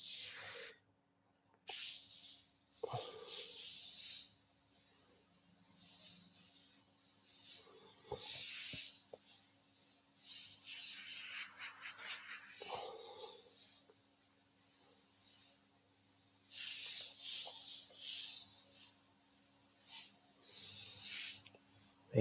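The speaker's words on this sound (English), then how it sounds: "the airbrush is going beautiful today" Airbrush spraying paint in bursts, a soft hiss that starts and stops repeatedly over a low steady background hum.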